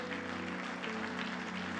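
A church congregation claps together in a dense, continuous wash of applause, steady and evenly loud throughout, with a faint background hum.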